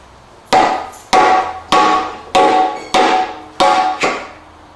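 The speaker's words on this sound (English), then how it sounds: "I'm lifting really hard with one side and I'm beating it with the other side" Hammer blows knock at the lower case of a Maserati Bi Turbo engine during a short block teardown: six sharp, loud metallic strikes at a steady pace, each ringing briefly before the next.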